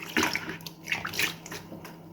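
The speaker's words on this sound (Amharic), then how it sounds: "ውሃ ጥጃለሁ።" Water poured into a container while mixing Ethiopian injera batter, soft splashing and gurgling bursts in uneven spurts, close and fairly quiet, with no talking.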